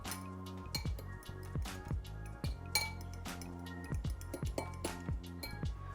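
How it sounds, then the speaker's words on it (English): Almond flour keto cheesecake crust mixture being combined in a bowl, giving repeated close clinks and scrapes of a utensil against the dish in an irregular rhythm, with no talking. "And let's mix this all together until it's combined."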